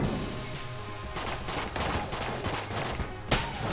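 The trash cannon fires in Enter the Gungeon, a rapid barrage of gunshots in quick succession over dense game music, loud and continuous with a sharper blast near the end.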